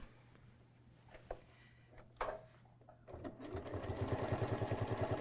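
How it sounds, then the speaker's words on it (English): A Janome Skyline S6AE sewing machine stitches decorative patterns, starting after a few clicks and settling into a steady, rapid mechanical chatter that grows louder and continues to the end. "You'll see that it sews that first decorative stitch and then it does the second decorative stitch."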